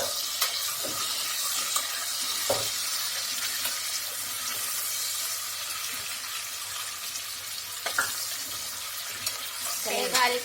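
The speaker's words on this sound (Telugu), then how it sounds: "వేగాలి కాసేపు." Tomato pieces fry in a pan and are stirred, giving a steady broad sizzle with a few scraping clicks of the spoon throughout, close and moderately loud, with no talking.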